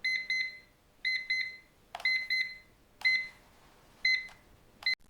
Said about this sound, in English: the exact second your timer goes off